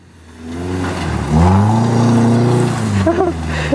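A Nissan S14 engine revs hard while doing donuts, the pitch climbing and holding at high revs with rough, fluctuating throttle; a voice speaks briefly beneath it.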